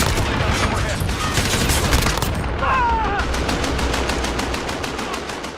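AUG submachine gun firing in Modern Warfare, a dense, loud stream of rapid automatic shots that keeps up for several seconds under steady game noise, with a voice speaking faintly in the background.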